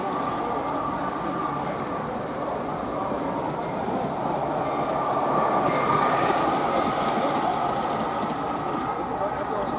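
A continuous rumbling rattle of a G scale model train running along its track, steady and fairly loud throughout, with a faint squeal in the middle.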